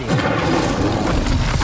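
A fiery Incendio spell blasts out during combat in Hogwarts Legacy on PS5, a dense, steady roaring burst of magical flame with a low booming body that holds at full loudness for under two seconds.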